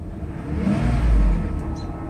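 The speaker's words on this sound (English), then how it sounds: "You give it a little gas and the oil pressure should go up." A Mercedes S600 engine given a little gas, rising into a steady low rev that swells and eases off, loud and close, with no talk over it.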